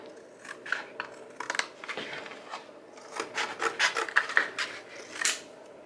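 Pieces are cut out of a craft mat for a lantern project, making close, faint, uneven rasping cuts in irregular bursts with no talking.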